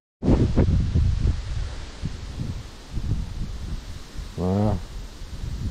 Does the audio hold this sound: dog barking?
no